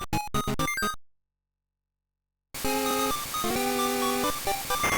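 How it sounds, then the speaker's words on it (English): In the Wario Land II video game, an alarm clock rings with harsh, repetitive chiptune beeps. A short burst of game blips comes first, then silence, then the shrill, looping electronic ringing, loud and continuous. "It's an alarm clock."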